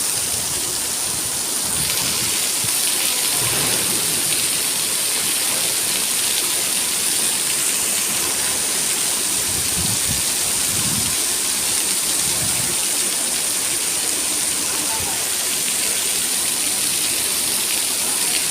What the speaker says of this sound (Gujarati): જોરદાર એન્ટ્રી વરસાદની